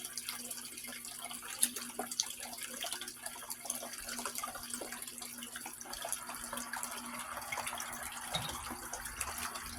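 Running water washes black sand through a gold sluice with a steady, quiet trickle and splash, continuous and fairly faint throughout.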